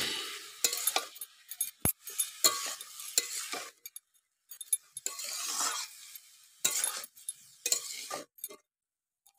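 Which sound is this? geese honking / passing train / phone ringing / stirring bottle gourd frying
stirring bottle gourd frying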